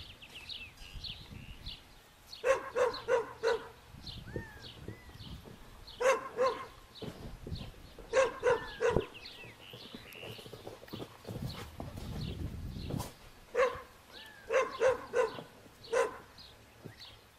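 A dog barks in short repeated bursts at a moderate distance, with pauses between volleys and faint background noise.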